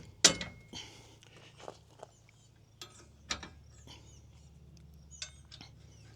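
Assembly of an OutfitR two-bike hitch e-bike rack with ramp (model 4148), with a nut or bolt tightened by a ratcheting tool: a sharp metallic clink, then scattered quiet ratchet clicks and taps over a low hum, close and faint.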